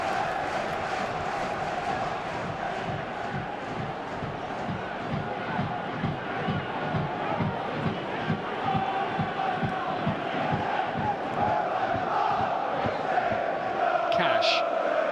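Home stadium crowd roaring and chanting at a Preston North End v Aston Villa FA Cup quarter-final, a sustained distant wash of voices with rhythmic pulses, steady and moderately loud with no clear commentary on top.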